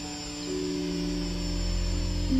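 Hubsan H216A X4 Desire Pro GPS camera drone lifting off on auto takeoff, a steady nearby propeller whine with tonal motor hum that swells slightly as it rises.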